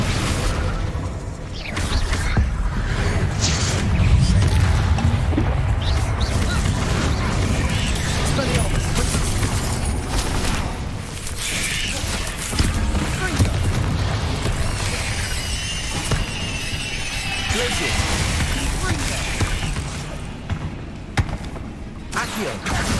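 Confringo explosive fire spell cast in Hogwarts Legacy, a dense run of booming blasts and thuds over continuous game action and music, with a voice speaking across it.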